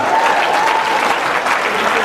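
A crowd at a live comedy show in Rwanda breaks into loud, dense, continuous applause that fills the whole moment, with a voice faintly audible underneath.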